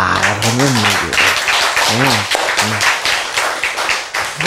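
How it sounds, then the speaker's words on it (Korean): Audience in a church sermon breaks into applause, a steady wash of many hands clapping for several seconds while a voice talks over it. "여러분은 하나님 얘기만 들어도 이렇게 박수가 나오잖아"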